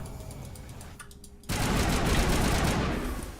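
Sci-fi weapon gunfire from the Mass Effect video game erupts halfway through, a loud sustained burst of rapid shots following a quieter stretch of ambient game sound.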